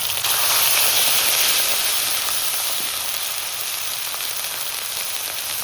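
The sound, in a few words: cumin, ginger-garlic and chili paste sizzling in hot oil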